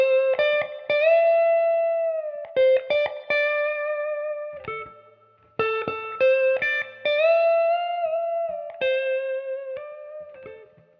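Distorted electric guitar plays a minor pentatonic lick with clear string bends, notes sustaining and sliding up and back down, with short pauses between phrases and a touch of reverb.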